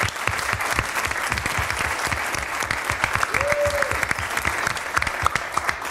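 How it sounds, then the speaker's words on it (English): A school district governing board meeting's audience claps for parents, a dense, even round of applause lasting several seconds, fairly close and loud. "let's give our parents a big round of applause as well"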